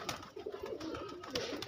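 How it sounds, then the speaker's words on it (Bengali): Old Andra pigeons cooing in a loft, soft repeated throaty coos rising and falling close by with no talking. "এই হচ্ছে আমার সব পুরাতন আন্দ্রা পায়রা।"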